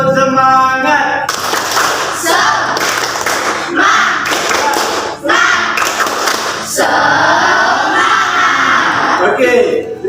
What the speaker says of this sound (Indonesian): Mari kita bertepuk semangat.